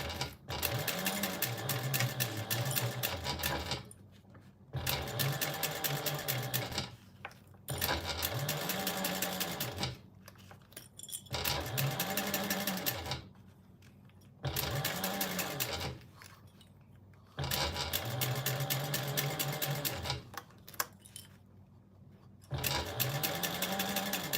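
A sewing machine stitches fabric for a Rosie baby sling in bursts of fast, steady whirring, roughly eight runs separated by short pauses, close and fairly loud with no talking.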